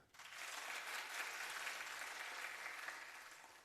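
An audience applauds steadily for several seconds in a conference hall during a live tech talk quiz, a dense, even wash of clapping from start to finish with no voices.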